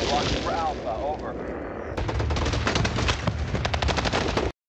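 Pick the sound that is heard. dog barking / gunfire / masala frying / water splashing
gunfire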